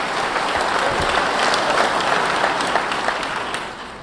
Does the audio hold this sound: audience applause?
yes